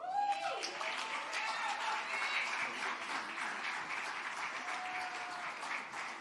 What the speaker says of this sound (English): Please give a round of applause for our dear brother